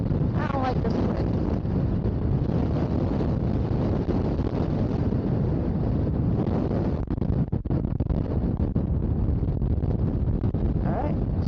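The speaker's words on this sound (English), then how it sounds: "I don't like this wind." Strong wind gusting over Lake Castaic while out on a boat, buffeting the microphone in a steady, loud roar that runs the whole time, with some voices underneath.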